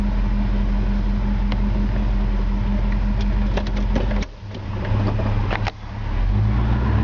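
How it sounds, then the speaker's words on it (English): A 1968 Chevrolet Camaro convertible V8 idles steadily right after starting on a brisk November morning in Georgia, a close and even rumble with a couple of brief dips and clicks near the end. "Touch of the key, fires right up,"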